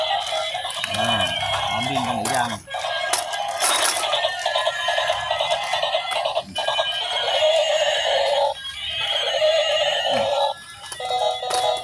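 A toy unicorn horse, freshly unboxed, plays loud electronic neighing and whinnying sounds repeatedly, mixed with chiming tones and clip-clop effects, close and continuous.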